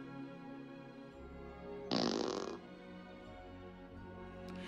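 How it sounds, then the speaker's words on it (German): A loud, realistic fart bursts out in a Family Guy cartoon scene, one wet, rasping blast lasting about half a second, framed by sustained tonal music and background hum. "wollt ihr mal einen lebensechten Furz hören, statt diesen langweiligen Cartoon-Pupsen?"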